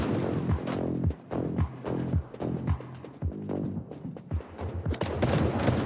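Shotgun blasts boom repeatedly in a single-hand Android action mini game, a fast series of punchy shots roughly every half second with a little background game noise between them.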